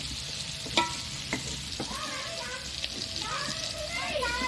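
Prawns frying in hot oil in a home kitchen pan, a steady faint sizzle with a few sharp clinks of a utensil while someone talks over it.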